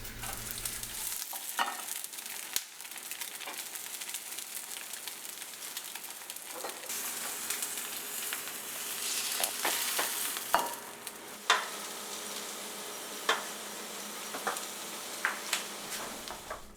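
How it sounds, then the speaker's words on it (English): Eggs frying on a stovetop during preparation of Vietnamese banh mi with cured pork, a steady broadband sizzle running throughout with occasional sharper pops and clinks, fairly close, no talking. "So what we'll do now is we'll fry our eggs"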